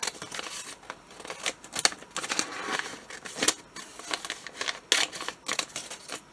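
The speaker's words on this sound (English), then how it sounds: "I'm going to cut this part out right here." Scissors snip steadily through a journal page, giving a run of close, crisp cutting and rustling paper sounds with no voices.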